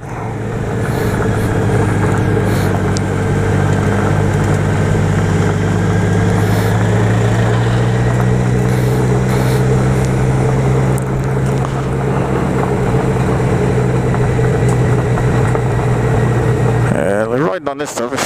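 A tractor engine on a narrow country road gives a loud, continuous low rumble with droning harmonics that swell slightly mid-way, under wind noise, before a sharp disturbance at the end.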